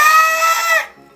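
A person imitates a goat's bleat with one short, loud, wavering nasal cry that breaks off sharply.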